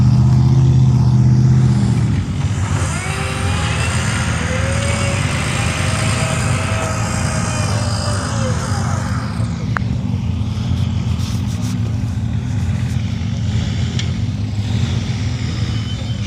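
A Can-Am Ultra 4 off-road vehicle crawling down a rock wall at a competition, its engine running in a steady loud drone with shifting revs and a couple of sharp clanks from the rocks.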